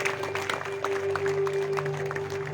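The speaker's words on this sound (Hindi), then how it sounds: "जोरदार ताली बजाओ" A congregation claps together at an Easter Sunday church meeting, a steady, moderately loud patter of many hands over a sustained low hum.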